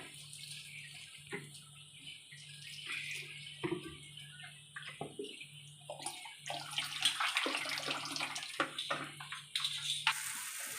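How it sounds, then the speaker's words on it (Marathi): Tap water runs steadily while dried shrimp are rinsed in a home kitchen, with splashing and clattering rising toward the end, close and fairly quiet. "चला तर सुकट धुवून घेते"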